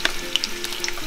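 Bacon sizzles in a pan while cooking cachupa rica, a steady close frying hiss with scattered crackling pops over a short stretch.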